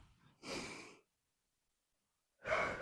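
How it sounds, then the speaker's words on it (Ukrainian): Two slow, audible breaths taken during a Ukrainian-language morning mobility workout for the hip joints, a half-second exhale then silence before another breath begins, close and fairly quiet, with no talk over them. "І робимо вдих, видих."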